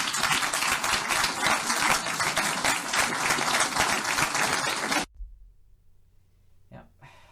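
A crowd applauds loudly in dense, continuous clapping for about five seconds, then it cuts off abruptly into near silence with a faint low murmur afterward.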